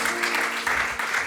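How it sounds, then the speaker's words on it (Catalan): A brief burst of audience clapping for the pianist at a literary reading event, dense and close, with a faint voice beneath it. "un aplaudiment per mestre Eduard Geni al piano"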